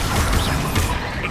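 Confringo blasting curse from the Hogwarts Legacy video game hitting its target: a dense, loud burst of crashing impact noise with rumbling low end, a couple of sharper thumps within a continuous busy game mix.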